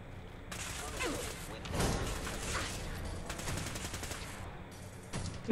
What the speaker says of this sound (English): Are you shooting me through that window?